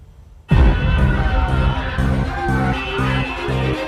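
A crowd in Bangladesh, attacking Hindu temples, erupts in loud shouting and cheering after half a second of quiet. The raised voices go on in a dense, steady roar from then to the end.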